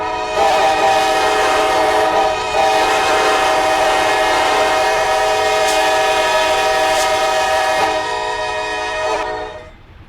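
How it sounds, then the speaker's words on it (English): Three train horns blaring together as one loud, sustained chord from a locomotive, holding steady for about nine seconds with a brief dip early on before cutting off and fading. "There's all three of their horns mixed into one."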